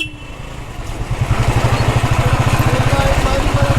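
A Royal Enfield motorcycle engine thumps in a steady, pulsing idle-to-low-rev rhythm, close and fairly loud, growing a little stronger partway through amid light background noise from a rainy monsoon ride.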